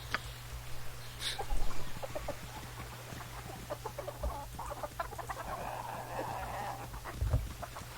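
Chickens cluck on a farm in the video game Baldur's Gate II, with repeated soft clucks and a louder squawk over a low steady hum, fairly quiet and alone.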